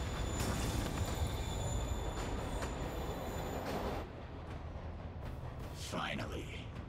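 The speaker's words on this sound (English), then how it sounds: "Train. Lee's getting away." A train pulling away from a platform in a Spider-Man video game, with steady loud rumbling, metallic hiss and faint wheel squeal that thins out partway through, while a voice speaks briefly near the end.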